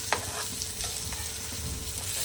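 Rawas fish pan-frying on a griddle, a steady low sizzle running throughout with occasional soft spatula scrapes and small pops, heard alone.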